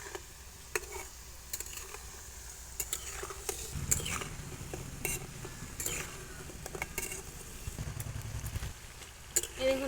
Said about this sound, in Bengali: এবার সবাস পাল্টায় মিষ্টিগুলো লাল লাল করে ভেজে নেব